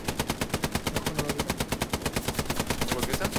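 Rapid automatic gunfire in Hell Let Loose, a close, loud machine-gun burst of evenly spaced shots hammering on without pause for several seconds.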